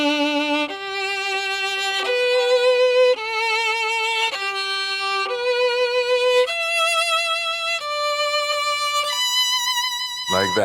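A violin plays a series of sustained notes with quick, full, fast bow strokes, each note clear and bright, moving between pitches with brief breaks.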